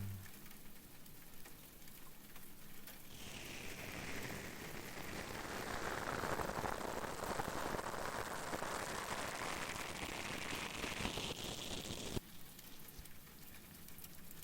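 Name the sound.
rain falling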